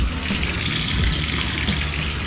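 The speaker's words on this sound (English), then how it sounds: "Fill your fucking bathtub up with hot water." Hot water runs steadily into a bathtub being filled for washing laundry, a continuous close rushing splash with no voices.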